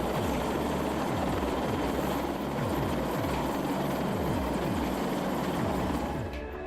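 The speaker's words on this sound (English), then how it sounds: "The Apache is one of the most advanced attack helicopters in the world" An Apache attack helicopter flies over Afghanistan, its rotor chop beating in a fast, steady rhythm over a deep engine roar that stays loud and constant, then eases slightly at the end; no one speaks.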